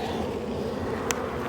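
A dense, steady buzz of many honeybees fills the clip, loud and close, with one brief higher whine passing near the end.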